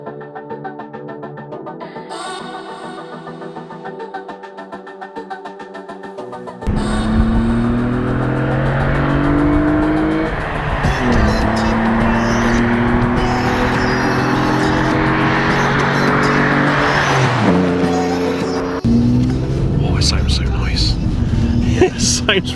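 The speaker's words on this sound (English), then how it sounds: "That exhaust really complements it, doesn't it?" A Vauxhall Vectra GSI V6 engine and exhaust while being driven on a road, the note climbing and falling through gear changes as the car accelerates, loud and continuous, with people talking in the cabin over it.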